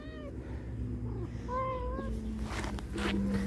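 Small kittens meow repeatedly at close range in a home, with several short, rising mewing calls and some faint rustling in between.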